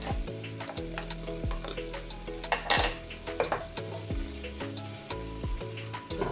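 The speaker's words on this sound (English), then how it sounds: "Just going to be adding our jeera. Just going to give this a little toss. And our thyme and green chili." Jeera, thyme and green chili sizzle in hot oil and butter for potato samosa filling, a steady close frying hiss with spoon stirs and occasional pan clinks throughout.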